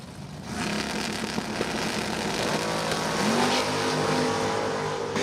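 A Corvette Roadster and a Fox Body Mustang launch side by side in a drag race at the Numidia Spring 150, their engines roaring loud and continuous with pitch climbing as they pull away.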